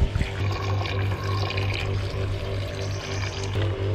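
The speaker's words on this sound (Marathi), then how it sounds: "ही आता कळशी सेकंड टाईम भरली आहे" Water runs steadily into a kalshi, a metal water pot, being filled a second time in a Konkan village. The flow is continuous and close, with a low ringing resonance from the filling vessel, and no voices are heard.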